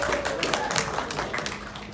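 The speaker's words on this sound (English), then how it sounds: "Give yourself a round of applause." A crowd at a comedy convention gives itself a round of applause, steady clapping from many hands filling the short moment at moderate loudness, with some voices mixed in.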